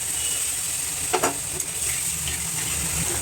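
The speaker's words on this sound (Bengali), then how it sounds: "টমেটোটা মিক্সিতে করে রেখে এটা একটু ভাজবো, কাঁচা গন্ধটা যাতে চলে যায়।" Blended tomato paste fries in a pan for a mutton curry, giving a strong, continuous close-up sizzle with a few soft stirring scrapes partway through.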